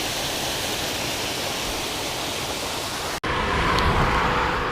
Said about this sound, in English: I thought I would take a picture of this waterfall.